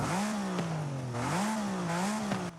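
A Porsche 911 GT3 RS 4.0 with its 4.0-litre engine revs in Forza Horizon 5, a loud, continuous engine note rising and falling through several sweeps as the throttle is blipped, up close with no talking.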